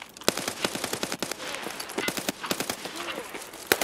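Gunfire in the video game Escape from Tarkov, with rapid bursts of automatic shots and scattered single cracks that come thick and steady, and excited players talking over the shooting throughout.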